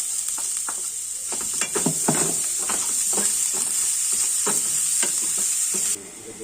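Garlic fries in oil in a pan, a bright steady sizzle with repeated stirring scrapes and knocks close by, the hiss dropping suddenly near the end.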